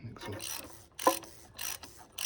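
Ratchet wrench clicking in short bursts as it loosens the oil filter housing on a 2008 Audi A3 8P 1.4 TFSI petrol engine near the hot turbo, several distinct ratcheting runs separated by brief pauses.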